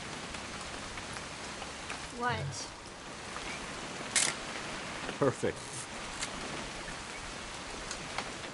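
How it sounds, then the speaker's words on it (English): Steady rainfall in the video game What Remains of Edith Finch, a constant wash of patter on a weekend hunting trip, with brief voices and a few footstep-like knocks over it. "It's gonna rain the whole weekend, isn't it?"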